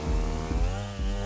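Motorbike engine in GTA Online, a steady droning buzz with harmonic whine that dips and surges at throttle changes, loud and close with no talk.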